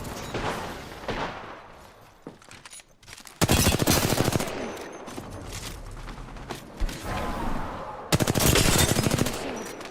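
Rapid automatic gunfire in Apex Legends, two long, loud, close bursts of fast machine-gun shots, with mechanical clicks and creaks and other combat noise in the quieter gaps.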